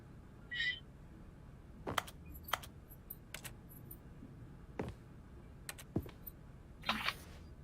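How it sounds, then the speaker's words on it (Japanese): Sparse keyboard key clicks from the video game The Stanley Parable, a handful of separate taps spread irregularly across a quiet background, no talking. "この人キーボード持ち歩いてんの？"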